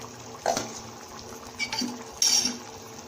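A metal lid is lifted off a pot of slow-cooked yellow brinjal curry, giving a few sharp clinks and scrapes of metal against metal over a quiet kitchen background.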